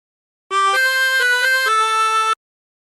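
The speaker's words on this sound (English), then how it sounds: "And practice this until you end up with something that sounds like this." An opening phrase on a 16-hole tremolo harmonica, a few bright reedy held notes with a wavering tremolo shimmer, played clearly and close with no talk.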